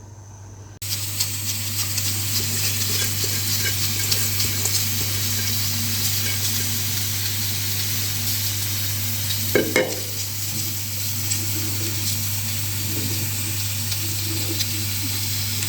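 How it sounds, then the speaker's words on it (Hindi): Rice freshly added to a pot of chicken pulao sizzles steadily and loudly while being stirred, with a continuous frying hiss and occasional scraping clatter from the spoon. "मैंने चावल डाल दिए हैं इसमें"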